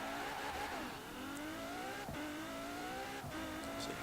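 A 2018 Apollo Intensa Emozione hypercar in Forza Horizon 4 drives at speed, its engine note rising steadily through the gears with brief dips at each shift, loud and continuous with no talking.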